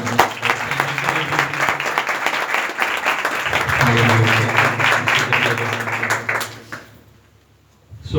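A church congregation at a Sunday service claps loudly and continuously for several seconds, a dense wash of applause with some voices mixed in before it fades out.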